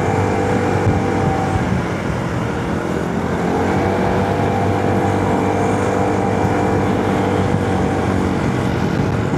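An Aveta Nova 160 motor scooter climbs uphill on Gunung Jerai, its engine droning loud and close in a steady, strained hum with a slight wavering pitch throughout, wind noise mixed in.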